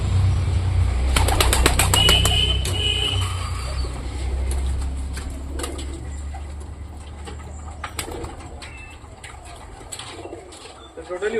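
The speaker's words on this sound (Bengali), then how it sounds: "সব পায়রাগুলো ঘরের ভেতরে ঢুকে আছে" Pigeons burst into a flurry of flapping wings early on, with soft, low cooing continuing throughout as the flock settles nearby.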